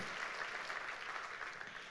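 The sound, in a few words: church congregation applause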